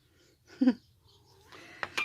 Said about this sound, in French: Oui, mon chat.